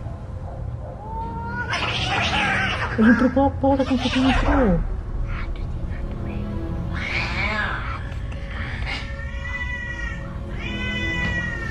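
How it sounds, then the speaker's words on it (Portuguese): Black cat meowing indoors at night, several drawn-out, wavering yowls close by, with a longer caterwaul early on and shorter cries later; people talk anxiously around them. "É o gato preto."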